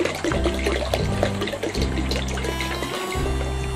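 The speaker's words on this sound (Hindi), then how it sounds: "1 लीटर पानी में इस बर्तन में डाल रहा हूँ।" About one litre of water pours steadily into a cooking pot, a loud continuous splashing rush close by with no talk.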